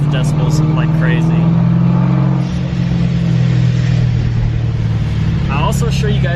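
A loud car engine fitted with a Procharger supercharger drones steadily from inside the cabin, a deep sustained rumble with a brief dip midway, while people talk over it.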